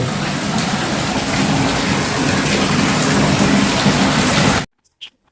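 Steady heavy rain pours down across the whole stretch, a dense close hiss during a first-monsoon downpour, then cuts off abruptly into near silence with one faint brief sound after.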